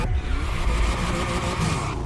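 Car engine in the racing video game The Crew Motorfest, a steady revving drone with a brief whooshing rise, heard alone for about two seconds.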